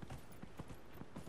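Horse hooves clip-clop steadily in the video game Dragon Age Inquisition, a soft, regular rhythmic trotting beat that sounds faint and close.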